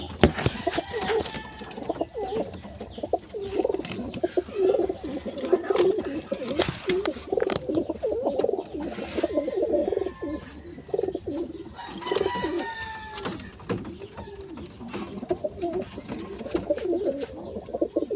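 Pigeons coo repeatedly at close range in soft, rhythmic throaty phrases, with scattered rustling and a few other bird calls around them.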